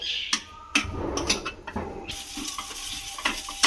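Chicken and potato snack filling, mixed with fresh coriander leaves, is stirred in a pan, giving close scraping and soft sizzling strokes in an uneven rhythm with a few sharper utensil knocks against the metal.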